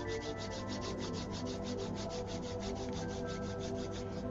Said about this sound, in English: Now rub your hands together to generate heat.